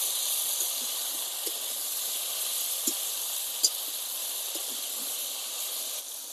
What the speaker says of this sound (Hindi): तेल सहित भल भाबरे आमे सारू आलू को फ्राई करनवा।